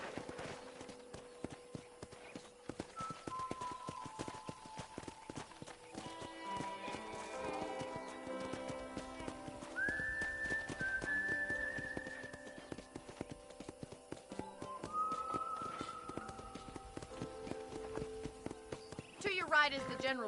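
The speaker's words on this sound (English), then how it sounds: "let's see if you can still ride a horse" Horse hooves clip-clop at a walking pace in a video game, joined by an occasional whinny, while game dialogue and background music play over them.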